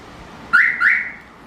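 A smartphone remote-start car alarm chirps twice in quick succession, loud and close, on a 2024 Hyundai All New Mighty truck.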